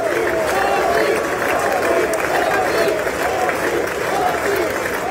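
A large crowd fills the chamber of the US Congress with a dense, continuous roar of applause and chanting for Narendra Modi, loud and steady throughout.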